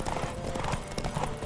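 Horse hooves clip-clop steadily in The Witcher 3, a continuous trot of close, moderately loud footfalls running through the whole moment with no talk over it.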